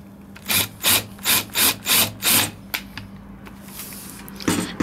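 A power drill bores into wood while building a book rack in a shop, heard as six evenly spaced, rasping bursts, close and fairly loud, followed by quieter scraping.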